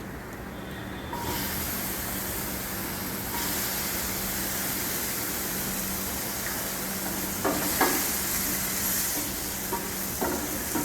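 Potatoes dropped into a hot pan for bouillabaisse, setting off a steady broadband sizzle that runs continuously, with a few clinks of a utensil against the pan near the end.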